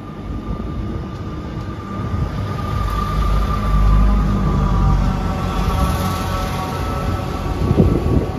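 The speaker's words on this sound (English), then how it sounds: "Departing out now is the 1336 Great Western Railway service from Salisbury to Worcester Foregate Street" A Great Western Railway train, unit 158750, pulls out of Gloucester station on a Salisbury to Worcester Foregate Street service, giving a steady, loud, low rumble that swells slightly midway and holds throughout with no talk.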